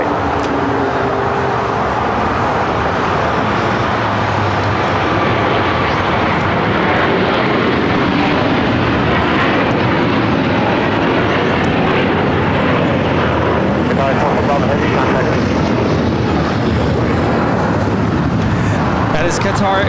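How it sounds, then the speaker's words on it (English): A Qatar Airways Airbus A350-1000 takes off from LAX, a loud, steady jet engine roar that sustains and swells broadband throughout, with some talk mixed underneath. "That is Qatar Airways, flight 740, taking off to Doha on the A350 1000."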